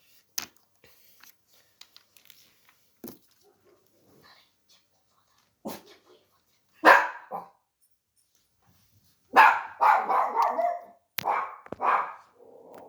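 Dogs bark in a few scattered outbursts, some single sharp barks and a denser flurry of yaps and whimpers near the end, moderately close with quiet gaps between and no talking.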